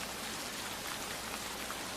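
Heavy rain falling steadily in a village at night, a constant dense hiss of drops on surfaces with no voices.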